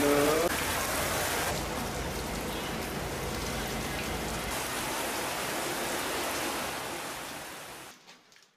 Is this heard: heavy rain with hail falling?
yes